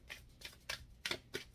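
Tarot cards are shuffled by hand in a quiet room, giving five short, soft riffling bursts at an uneven rhythm, close and faint.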